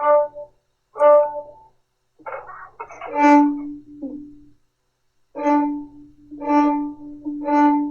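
Several soft, short bowed violin notes, each a gentle swell, separated by pauses.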